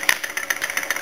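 A homemade laminar flow thermoacoustic engine running close up, giving a rapid, steady chuffing pulse of soft puffs repeating several times a second over a faint background hiss.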